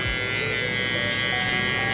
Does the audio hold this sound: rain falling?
no